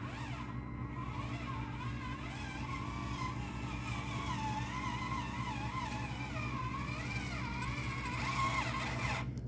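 Kyosho Mini Z 4x4 Suzuki Jimny RC car driving, its small electric motor giving a steady whine that rises and falls as it speeds up and slows, heard close over a constant low hum.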